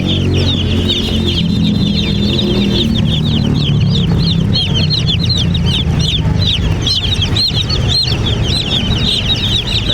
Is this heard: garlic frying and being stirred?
no